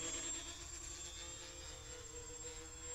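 The VTOL Explorer model aircraft hovers with a steady whining electric motor and propeller drone, a continuous close tonal buzz with a high whistle, holding even loudness throughout with no talk.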